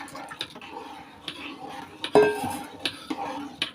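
A spoon stirs and scrapes inside a pot of starch paste for clothes, with soft, irregular clinks, while a voice speaks over the quiet stirring.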